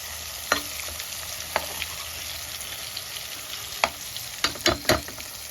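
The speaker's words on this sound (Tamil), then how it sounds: "இந்த ஆயிலில் பொட்டேட்டோ வந்து ஃப்ரை பண்ணிக்குவோம்." Potato pieces frying in hot oil, a steady close sizzle punctuated by several sharp clinks and scrapes of a utensil stirring the pan.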